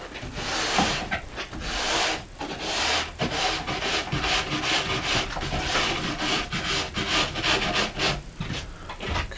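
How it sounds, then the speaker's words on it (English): A coarse brush scrubs across a waxed ski base in quick back-and-forth strokes, a close, steady, rhythmic scratchy rasping that continues throughout with no talking. "make a couple passes with this brush"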